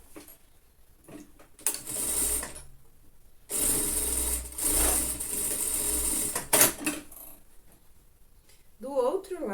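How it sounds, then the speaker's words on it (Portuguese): A sewing machine stitches the shoulder seam of a lined child's coat, running in two bursts of steady whirring separated by pauses and light handling noise, with a voice heard briefly near the end. "E eu vou passar uma costurinha no ombro."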